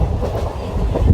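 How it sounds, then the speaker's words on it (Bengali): A passenger train on the Krishnanagar–Ranaghat line runs at speed, its close, steady rumble mixed with rhythmic clickety-clack from the wheels over the rails, with no voices. "আমাদের ট্রেন কিন্তু এই মুহূর্তে দুরন্ত গতিতে ছুটে চলেছে"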